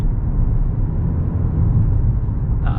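A 2022 Toyota Corolla Cross with a CVT accelerates as a steady, muffled low drone from inside the cabin, with a smooth and continuous rumble and no distinct gear shifts.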